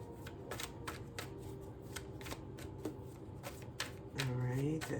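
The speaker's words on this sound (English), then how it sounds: "If there's nothing that comes out in this last shuffle here, then we'll cut the deck and take the cards off the top." Someone shuffles a tarot deck over and over, producing a steady run of crisp riffling card flutters, and near the end a voice begins talking over them.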